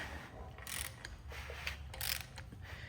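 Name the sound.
engine crankshaft being turned by hand with degree wheel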